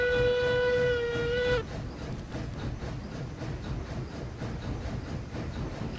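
Steam locomotive in RailRoads Online: a clear steady whistle blows for about a second and a half, then cuts off, leaving continuous rolling rail noise and rhythmic chugging underneath.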